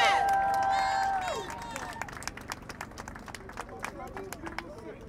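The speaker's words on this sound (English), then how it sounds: "Give yourselves a round of applause." A press conference audience claps in scattered, uneven applause that starts after a cheer and thins to a light patter.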